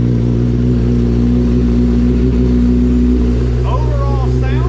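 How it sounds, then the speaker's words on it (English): A 2021 Kawasaki ZX-10R sport bike with 6,000 miles and its exhaust restrictions removed runs loud and close with a steady, deep, throbbing idle throughout, and a voice briefly talks over it near the end. "Let's see what this exhaust system sounds like."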